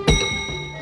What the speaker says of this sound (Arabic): الجرس الجرس يا برو